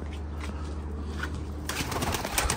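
Pigeons coo softly amid a dense chorus of birds, with the background growing busier and brighter partway through.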